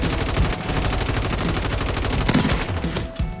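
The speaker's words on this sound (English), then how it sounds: "when you shoot the gun this way" Rapid bursts of gunfire from the video game Warzone, a loud, dense automatic stream with sharp repeated reports running throughout and no talking.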